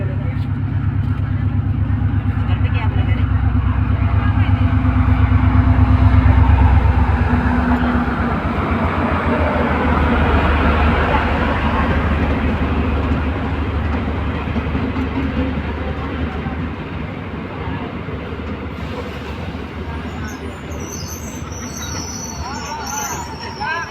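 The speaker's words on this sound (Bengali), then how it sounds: "তো এখন রেল আসছে," A train pulls into Sekerkote railway station, a steady low rumble swelling to a peak and then easing as it slows, with crowd chatter and voices mixed in on the platform.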